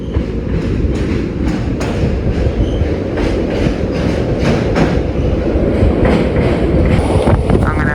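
A train runs along the rails just past Aluva station after crossing the Periyar river in Kerala, a loud, steady rumble with regular clickety-clack wheel beats heard close up from on board, with no talking.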